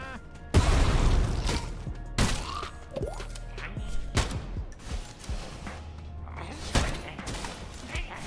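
Grenade blast in a first-person video game, a sharp loud crash followed by several more thuds and bangs at irregular intervals, with a voice talking over the scene.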